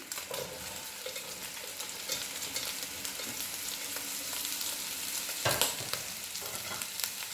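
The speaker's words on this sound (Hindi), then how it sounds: "इसके अंदर मैं डाल दूँगी जो मेरे पास कटी हुई सब्ज़ी थी, गाजर, शिमला मिर्च और फ्रेंच बीन्स" Chopped carrot, capsicum and French beans fry in a hot pan with a steady, dense sizzle, broken by a louder burst of stirring or food hitting the oil near the end; no one speaks.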